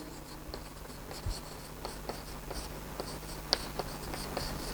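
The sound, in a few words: writing during a maths lecture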